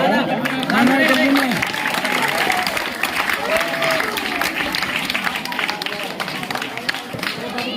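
Children clap together at a school event, a dense patter of applause mixed with crowd noise and an announcer's voice over a loudspeaker, loud and close throughout.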